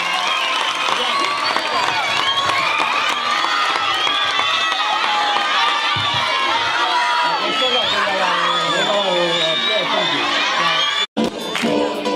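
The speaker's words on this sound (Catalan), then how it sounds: "Un aplaudiment als ballarins." An audience applauds and cheers hip-hop dancers at a school Sant Jordi centenary show, with dense clapping, whoops and children's shouts filling a hall throughout.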